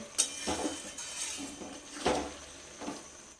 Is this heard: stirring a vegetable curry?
yes